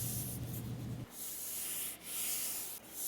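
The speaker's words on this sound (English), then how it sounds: "Wipe with a paper towel and you're all set." A paper towel wipes across a clamp with close, continuous rubbing and soft papery swishing in several strokes, each with a slight dip between passes.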